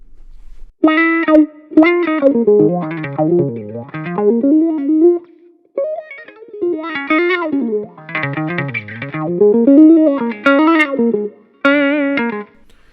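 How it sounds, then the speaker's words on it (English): Electric guitar played through a wah effect switched on with a Strymon Favorite switch on a pedalboard, sustained notes sweeping up and down in tone, loud and close, with short pauses between phrases. "And then I have the Strymon favorite switch, which I use to engage that wah sound"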